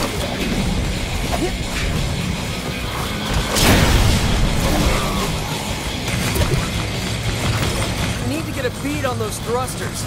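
Gunfire sets off a train's thrusters in the Sunset Overdrive video game, a loud burst of explosive crashing and shattering amid ongoing game noise, with someone talking throughout.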